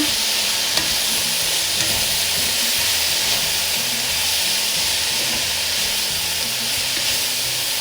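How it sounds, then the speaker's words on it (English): Yakisoba ingredients with garlic and salt stirred in a hot pan, a dense, continuous sizzle and hiss with soft scraping of the spatula, close and steady throughout. "Gonna stir this all together."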